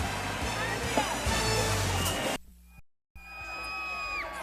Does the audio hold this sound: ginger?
no